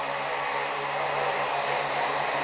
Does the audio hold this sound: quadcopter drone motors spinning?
yes